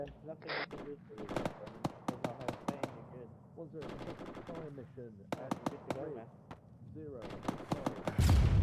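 Rapid bursts of gunfire crack through a military training round for the 6th Airborne Division in a video game, sharp shots in uneven clusters over several seconds, with players talking over the shooting.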